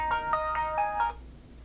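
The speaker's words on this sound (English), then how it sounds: "I got a phone call." A loud phone ringtone plays nearby as a call comes in, a quick series of about five bright melodic tones in a rhythmic pattern. It then stops abruptly, with no speech.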